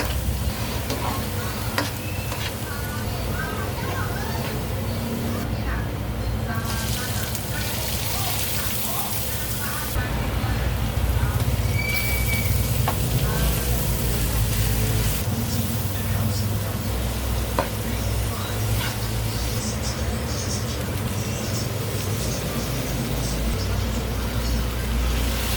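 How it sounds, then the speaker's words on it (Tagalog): Offal sautéing in a pan with garlic, lots of ginger and onion, a steady close sizzle and frying hiss with occasional stirring scrapes, running continuously throughout. "At akin naman pong gigisahin ang lamang loob."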